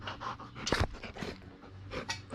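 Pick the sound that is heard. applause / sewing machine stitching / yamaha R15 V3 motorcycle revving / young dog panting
young dog panting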